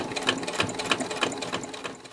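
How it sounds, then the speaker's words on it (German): Sewing machine topstitching close to the edge of a fabric wallet, a fast rhythmic run of needle strokes with regular clicking pulses, close and steady for the whole stretch. "Jetzt wird es nochmal abgenäht, knappkantig."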